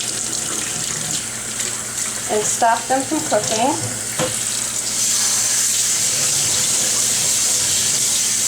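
Cold tap water runs steadily over onions that were blanched for one minute, a continuous splashing rush with a brief spoken line partway through and the flow growing slightly louder toward the end.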